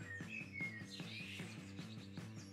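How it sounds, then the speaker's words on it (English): Loud chirping and tweeting birds from the ambient sound effects of the video game Garage Flipper, repeated calls over a steady rhythmic background hum, with no talking. "The birds are pretty loud."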